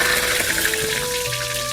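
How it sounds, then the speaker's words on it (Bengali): Bay leaves drop into hot oil in a home kitchen pan, giving a steady, close hiss of sizzling frying that holds at an even level for under two seconds with no voices. "তেলের মধ্যে তেজপাতা দিয়ে দিলাম।"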